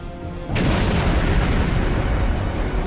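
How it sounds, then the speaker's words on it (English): A ship explodes in Star Trek Online, a loud, sudden blast that rumbles on in a sustained roar of broadband noise. "Ship explosions cause damage."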